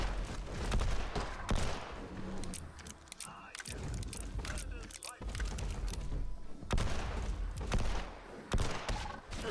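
Rapid bursts of gunfire from the video game Fallout 76 crack out in loud clusters, scattered shots and volleys across the stretch, with speech mixed in.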